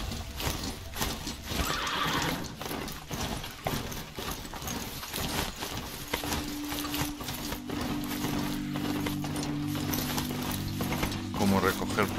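A mechanical horse mount in Horizon Zero Dawn whirs and clanks with ratcheting gears and pulleys, then lets out a long, droning synthetic whinny, loud and close over game sounds.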